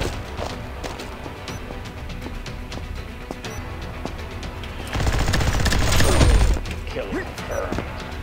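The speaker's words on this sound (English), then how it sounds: "I have a minigun too." Rapid gunfire from a minigun and other weapons crackles through a match of Combat Master II, building into a dense, louder burst in the middle, with game effects throughout.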